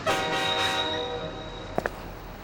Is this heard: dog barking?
no